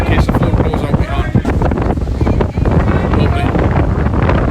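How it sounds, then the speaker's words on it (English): Strong wind buffets the microphone on the deck of a DFDS ferry at sea between Newcastle and Amsterdam, a loud, steady roar and rumble with gusty surges throughout. "You have to excuse the wind."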